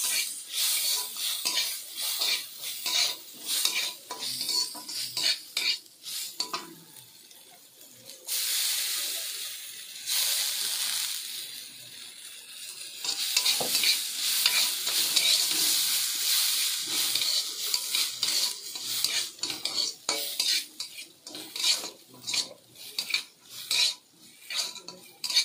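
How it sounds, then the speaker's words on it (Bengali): Washed Gobindobhog rice fries in hot oil, a continuous hiss broken by frequent scraping and clinking as a utensil stirs the grains against the pan, close and lasting well over twenty seconds. "এবার আমি এই তেলের মধ্যে দিয়ে দিচ্ছি। দিয়ে হালকা আমি ভেজে নেব।"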